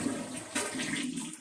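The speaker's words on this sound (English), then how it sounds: "It's a longer flush." A Glacier Bay dual-flush toilet in a suburban Dallas Airbnb flushes close by, a steady rushing swirl of water that holds strong before tapering at the end.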